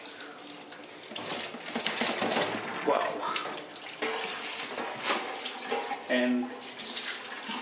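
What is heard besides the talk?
water flowing through a wort chiller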